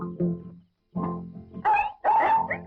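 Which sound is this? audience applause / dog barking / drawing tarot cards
dog barking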